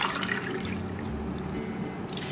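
Water poured from a glass into a pot of lentils for mutton harees makes a steady, close gushing and splashing that runs continuously, loud and unbroken, with no talk over it.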